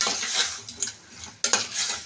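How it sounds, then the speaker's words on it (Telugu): Food being stirred in a cooking pot with pepper powder about to go in, close scraping and clinking strokes of a spoon against the pot over a soft sizzle, uneven in rhythm with a sharp scrape midway. "ఇప్పుడు ఇది ఒకసారి కలుపుకుందాం మనం."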